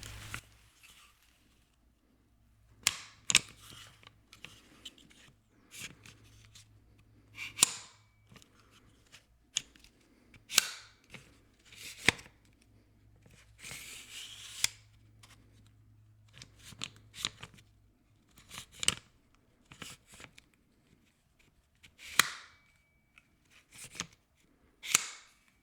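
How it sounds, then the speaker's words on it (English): Magpul CTR carbine stock on an AR15 being adjusted, a series of crisp metallic clicks, snaps and sliding rasps in short bursts separated by near silence, very close and quiet. "This is the CTR carbine stock. It is a minimal, lightweight design, and it's very adjustable."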